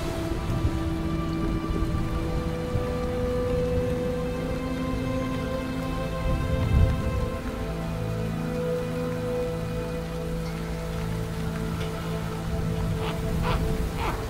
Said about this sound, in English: freezing rain like this can be a killer